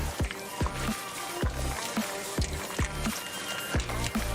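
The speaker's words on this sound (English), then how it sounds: "give it a good stir around" A spoon stirs thick homemade chili in a pot, making wet squelching strokes in a steady rhythm about twice a second, close and fairly loud.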